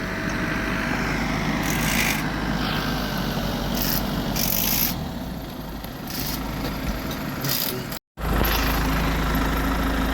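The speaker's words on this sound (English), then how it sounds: "the third tractor's now back after getting the coordinations, and he's loading up with the last VERTI drain" Tractor at a football pitch loading up with a Verti-Drain, a low steady engine drone with scraping and rubbing noises over it, brief louder bursts, and a momentary cut near the end.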